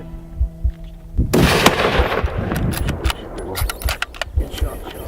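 A rifle shot fired at a bighorn sheep in the Mexican desert, a sharp loud crack followed by rolling echo, with talking voices around it.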